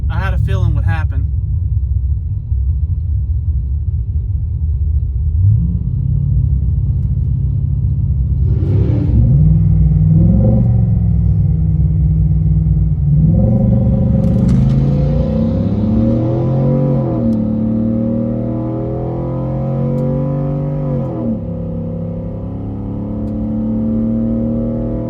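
A nitrous-equipped shop truck launches and pulls hard under power on a run, its engine rumbling low and loud, then rising through rapid gear changes, closely miked inside the cab.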